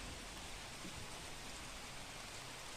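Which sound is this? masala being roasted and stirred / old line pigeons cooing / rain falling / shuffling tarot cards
rain falling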